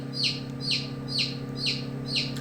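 A chick or chicken gives five evenly spaced high chirping calls, close and clear, about half a second apart. A low steady hum sits underneath, and no one talks.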